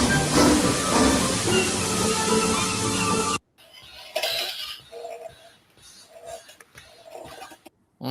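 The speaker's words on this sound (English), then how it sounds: "Which one of them had the default trains puffing sounds?" Steam train puffing and hissing from a video game, a loud continuous roar of hiss for three seconds, then a short silence followed by quieter rhythmic puffs and bursts.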